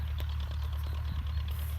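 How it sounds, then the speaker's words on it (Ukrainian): An MTZ-80 tractor drives across a field while applying UAN-32 liquid fertilizer to winter wheat and spring barley. A steady low engine drone runs throughout at moderate distance, with no talk. "Бачимо, там їдемо, їде трактор, все вносить, без проблем підживлення йде."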